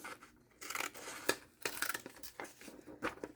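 Inexpensive scissors snip through paper book pages in a series of close, crisp cuts and rustles with irregular pauses between them.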